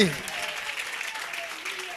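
A church congregation claps loudly, a dense continuous patter of many hands filling the room, with voices audible over the clapping.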